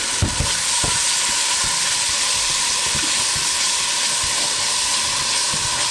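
Curry paste for a lamb and spinach curry fries and steams in a hot pan, giving a loud, steady sizzle and hiss throughout with a few low clunks of stirring near the start.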